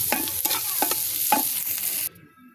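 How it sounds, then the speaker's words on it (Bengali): Onion and garlic fry in a pan until browned for a tempering, a close, loud sizzle broken by several scraping stirs, cutting off abruptly near the end to near silence. "পেঁয়াজ রসুনগুলো বাদামি কালার করে ভেজে নিব"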